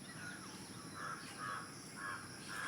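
A crow caws in a village at morning, several rough calls repeating at an even pace, somewhat distant and faint over a quiet background hiss.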